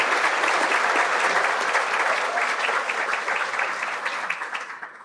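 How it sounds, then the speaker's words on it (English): A crowd at a Chamber of Commerce leadership breakfast, held at the Desert Bloom Golf Course, gives a dense, sustained round of applause at close range that stays full, then tapers off at the end. "Big round of applause for the Desert Bloom Golf Course for putting on an amazing breakfast"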